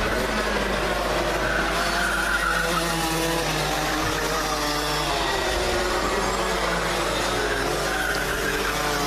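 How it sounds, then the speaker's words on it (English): Rotax racing karts at a Camberley winter championship meeting on a drying track, engines droning steadily at mid-distance with tyres squealing and scrubbing through the corners, continuous with no talk. "a bit of tyre squeal"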